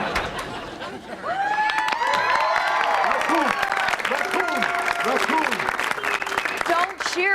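Sitcom studio audience applauding and cheering, a dense sustained wash of clapping with whoops rising over it, loud and close, with actors talking and laughter mixed in throughout.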